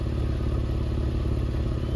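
A Porsche 911 (996) engine runs close by with a steady, throbbing idle, a low, even rumble with a light mechanical clatter and no pauses.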